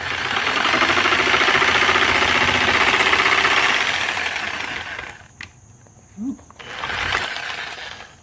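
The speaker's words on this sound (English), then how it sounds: "Got the jigsaw set pretty low on speed." A jigsaw set to low speed cuts with a steady, loud, rattling buzz for about five seconds. It then cuts out, leaving a few brief knocks and a short final burst.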